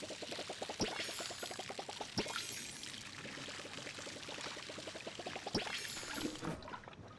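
Water pouring while watering plants in the video game Palia, a quick rippling gush that starts and stops a few times with sharp clicks between, fairly faint and alone.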